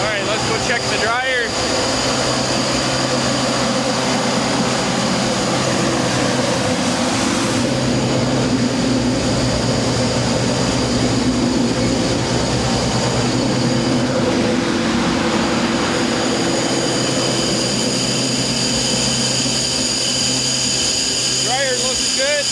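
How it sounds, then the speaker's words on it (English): A grain dryer fan on a corn farm runs at harvest, giving a loud, steady roar with a constant hum that fills the whole span without pause. "Fan's still running."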